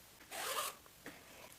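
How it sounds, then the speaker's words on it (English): A zipper on a dress is pulled closed in one smooth, soft rasping stroke, followed by a faint brief click, heard up close and quiet with no talking. "I'm going to close my zipper."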